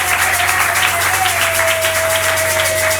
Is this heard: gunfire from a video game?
no